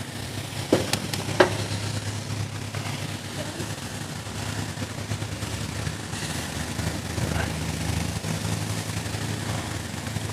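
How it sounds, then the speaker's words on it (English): Vietnamese shaking beef skewers sizzle on a hot grill, a steady broadband frying hiss with a low background hum and a couple of brief sharp pops near the start, no talking. "we're just going to go ahead and put our skewers on this hot grill"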